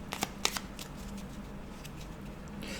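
A deck of tarot-style oracle cards is cut and handled on a table, giving a couple of sharp close flicks and a riffle, then soft shuffling rustles.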